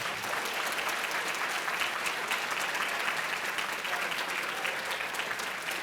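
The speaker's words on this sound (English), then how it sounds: "one more big round of applause" At a school district academic excellence awards banquet, the audience gives a big round of applause, a steady, full wash of many hands clapping that holds for several seconds.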